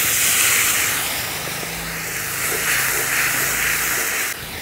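Cumin paste and spices sizzle loudly in a hot pan as a little water is poured in, giving a steady close hiss of steam that fades slightly, then surges again before cutting off.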